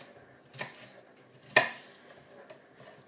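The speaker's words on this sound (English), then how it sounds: "Chop it up like so." A vegetable for a salad is chopped on a board, with two distinct knife strikes, the second louder and sharper, over quiet room tone.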